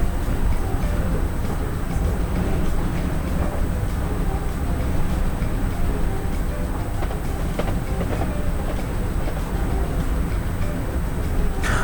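A Class 321 electric train passes a station in a train simulator game, a steady loud rumble of wheels and motors with faint rail clicks throughout, close and continuous with no talk.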